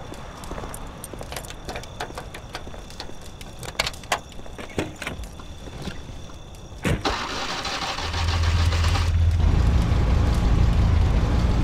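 A hotwired car in the game Mafia: clicks, jangles and metallic fiddling with the wires, then the starter cranks and the engine catches, settling into a loud, steady low idle.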